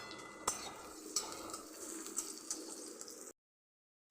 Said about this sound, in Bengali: আর এদিকে হতে দিয়েছি পেঁয়াজ ভাজা